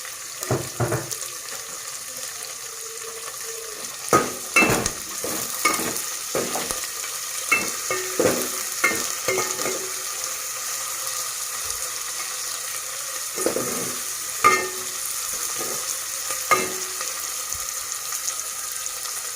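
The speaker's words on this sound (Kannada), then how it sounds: "ಈರುಳ್ಳಿ ಫ್ರೈ ಮಾಡ್ಕೋಬೇಕಾದ್ರೆ ಸ್ವಲ್ಪ ಉಪ್ಪು ಹಾಕ್ಕೊಳ್ಳಿ." Onions with a little salt sizzle softly in a pan for sambar while a spoon stirs them and scrapes the pan in irregular close knocks over a steady frying hiss.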